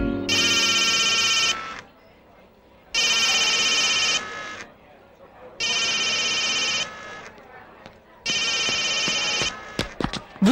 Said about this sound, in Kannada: ಫೋನ್ ರಿಂಗ್ ಆಗ್ತಾ ಇದೆ